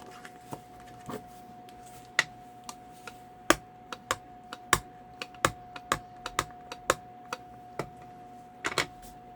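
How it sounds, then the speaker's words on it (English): A rubber stamp presses onto a card envelope on a tabletop, giving a series of sharp, close, irregularly spaced taps against a quiet background hum. "Now we're going to go ahead and stamp our envelope."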